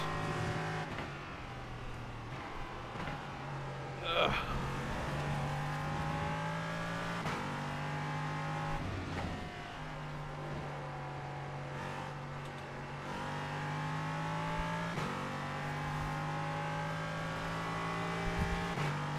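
A GT3 race car without ABS laps Donington in a racing video game, its engine droning steadily with repeated shifts and rises in pitch, moderately quiet and continuous with no talking.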